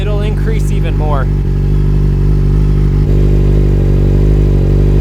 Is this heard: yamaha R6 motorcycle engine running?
yes